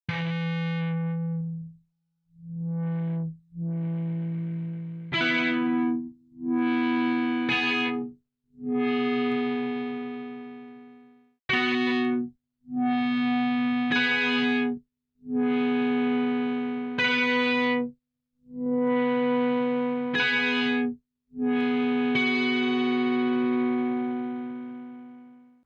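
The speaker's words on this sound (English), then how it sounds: "as you push up on your mod wheel, it'll close off that filter, restricting the higher frequencies and letting you hear just most of the low end" Synthesizer with its mod wheel pushed up, closing the filter and cutting away the highs so mostly low end remains; a series of sustained buzzy notes and chords plays alone, with echoing tails.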